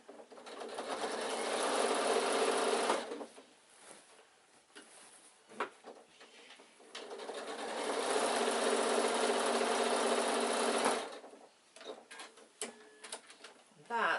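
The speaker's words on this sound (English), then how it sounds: "bring the side seam round to meet, make it edges level and then sew to the starting point" A sewing machine stitches the side seam of an insulated picnic bag in two sustained runs of rapid whirring, separated by quieter pauses with small handling clicks.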